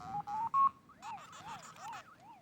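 Electronic sounds from a Pac-Man handheld game by My Arcade: a few quick beeping tones, then a rising-falling warbling jingle repeating several times, moderately loud.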